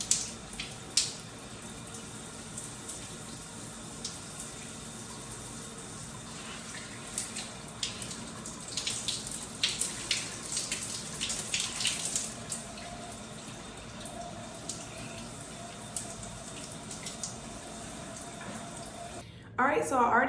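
Water runs steadily from a tap during a hair rinse on wash day, a continuous hiss with splashing and a few brief knocks, stopping abruptly near the end.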